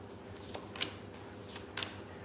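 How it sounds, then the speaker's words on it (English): Tarot cards being shuffled by hand in quiet, with a few soft riffling and flicking bursts spaced irregularly over a low background hum; close and faint, no talking. "Same cards jump out. I've been shuffling,"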